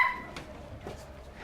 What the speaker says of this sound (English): We always keep a dog up here, of course.